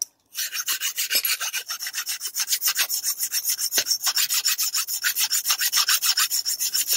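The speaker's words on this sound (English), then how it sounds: "And I'm filing both edges at the same time." A metal file rasping across the edges of a brake pad gives steady, rhythmic gritty strokes, loud and close, continuing evenly for several seconds without any voices.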